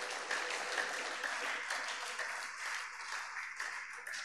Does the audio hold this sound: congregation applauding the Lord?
yes